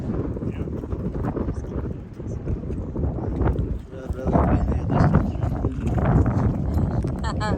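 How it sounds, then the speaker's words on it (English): Wind buffets the microphone in loud low gusts, rising and falling, with a few faint knocks and a brief voice-like sound near the end. "It's windy up here."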